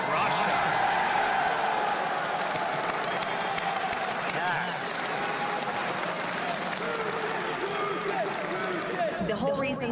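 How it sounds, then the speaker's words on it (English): An audience breaks into loud, continuous applause mixed with crowd murmur and a few cheers, and a voice talks over the clapping throughout. "Can we give a round of applause for Russia?"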